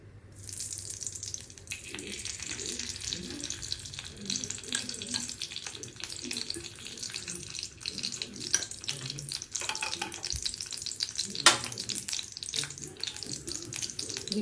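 Ghee heats in a wok for sooji halwa, giving a steady broadband sizzle and crackle with occasional scrapes and clinks. It runs continuously and close up with no voices.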